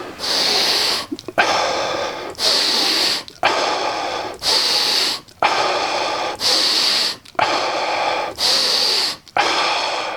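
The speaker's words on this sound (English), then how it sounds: "just how I do it is either breathe in through the nose or the mouth" Rhythmic Wim Hof style breathing, each forceful inhale and exhale drawn through the nose or mouth, repeating steadily about every second and a half, close and loud with no talking.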